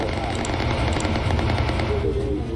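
A bomber gunner in Bomber Crew keeps firing in a steady stream of rapid machine-gun rattle over a constant low engine drone, staying dense and fairly loud all the way through.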